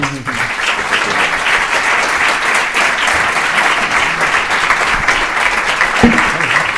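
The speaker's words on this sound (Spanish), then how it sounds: "pido un aplauso para ellos" Sustained audience applause fills the room at a government presentation of a strategy against organized and serious crime, a dense steady roar of many hands clapping from start to finish.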